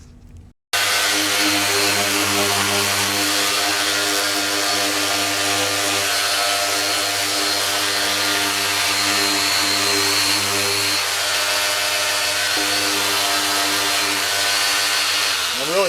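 A power grinder works steadily on a fiberglass Honda motorcycle fuel tank, a loud, continuous motor whine with a rough abrasive hiss that holds nearly unchanged throughout after a brief quiet start.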